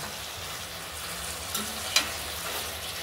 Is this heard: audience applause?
no